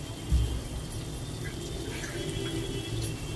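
Water is poured into spices such as turmeric, chili, coriander and cumin powder in a cooking pan, giving a soft, steady pouring and sizzling wash after a brief initial splash, with no talking.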